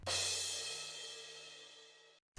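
A crash cymbal in an indie folk mix, dry with no shimmer reverb: one bright strike that decays steadily under a sustained low tone, then cuts off abruptly.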